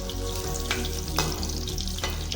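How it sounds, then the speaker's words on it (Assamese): Boneless chicken fries in oil in a kadai for chilli chicken, a loud steady close sizzle with a few sharp scrapes of stirring, no talk. "এয়া চিকেন ভজা হৈ গৈছে। চিকেনখিনি ভালদৰে ভাজি ল'লোঁ।"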